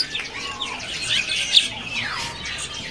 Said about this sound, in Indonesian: Di kios ini ada burung foxai mandarin.